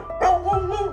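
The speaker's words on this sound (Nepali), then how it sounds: "कुकुरहरू जोड जोडले भुकिरहेको थियो" A dog barks and yelps loudly in a quick burst, close and sharp, with whining tones trailing after in an animated summer comedy scene.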